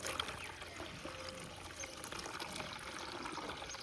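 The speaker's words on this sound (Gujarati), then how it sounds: "ગરમ પાણી કાઢી નાખીએ અને આ ઠંડુ હવે ચાલુ છે" Cold water running from a pipe and being poured out for cows, a faint continuous trickle and splash with no talking.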